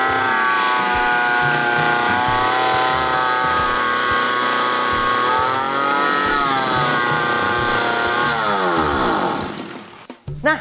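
A lawn mower engine races at high RPM by itself right after starting, although its throttle sits at the normal position. The loud droning whine holds steady, sags and climbs again twice, then cuts out with a clatter.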